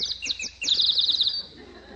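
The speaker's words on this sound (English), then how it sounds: "That's not Aunt Josie. That's a little bird." Small bird chirping as a radio comedy sound effect: a quick run of high, bright tweets and trills, close and clear, with no voices over it.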